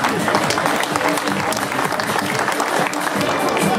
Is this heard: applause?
yes